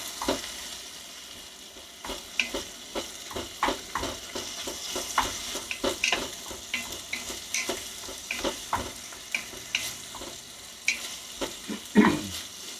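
Garlic and onion brown in a pan for chili, a soft sizzle under frequent scraping and tapping strokes of a utensil against the pan, close and fairly quiet, with no voices.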